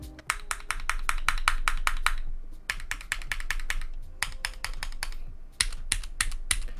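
Rapid typing on a Keychron Q3 TKL mechanical keyboard with a knob, stock build, crisp clacking keystrokes in dense bursts with two short pauses, close and fairly loud, some keys carrying a faint metallic ping.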